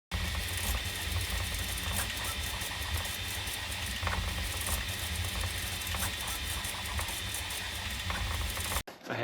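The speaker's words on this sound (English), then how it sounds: "I have my 3D printer, which is behind my head over there." 3D printer running while printing windshield spacers, a steady whirring and buzzing mechanical texture with rapid ratchety stepper patter, loud and continuous until it cuts off near the end.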